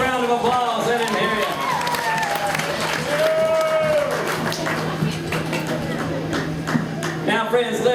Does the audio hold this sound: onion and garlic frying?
no